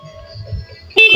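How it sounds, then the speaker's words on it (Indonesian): A Yamaha Mio motorcycle's horn gives a single loud, abrupt honk at the end after a moment of near quiet. "Klakson."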